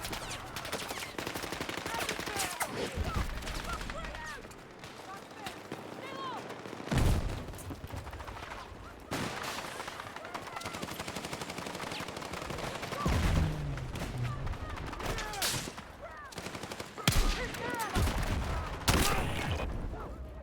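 Gunfire in Battlefield 6 on New Sobek City: bursts of automatic fire and scattered shots with a tank nearby, moderately faint under a player's frequent talking.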